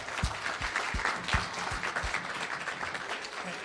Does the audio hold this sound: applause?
yes